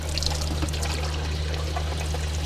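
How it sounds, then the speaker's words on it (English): Water poured steadily onto a dyed disc, a continuous soft trickling splash over a low steady hum, close and unbroken with no talking. "I'm going to go ahead and put some water on"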